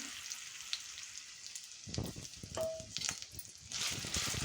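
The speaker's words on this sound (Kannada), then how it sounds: "ಇದನ್ನು ಚೆನ್ನಾಗಿ ಹುರ್ಕೊಳ್ಬೇಕು ಇದನ್ನು ಹೇಗೆ ಒಂದು ಐದು ನಿಮಿಷ ಹುರ್ಕೊಳ್ಬೇಕು ಹಸಿ ಸ್ಮೆಲ್ ಹೋಗುವವರೆಗೆ" Grated raw mango frying in a spoonful of ghee in a pan gives a steady sizzle and crackle throughout, close and moderately loud, with stirring scrapes in the second half.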